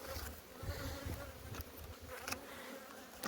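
Honeybees hum in a dense, steady buzz from an opened beehive on a nomadic apiary, close and continuous, with a few brief scraping clicks from handling the frames.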